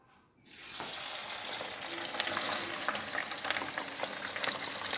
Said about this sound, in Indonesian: Kita sekarang coba menggoreng ikan teri.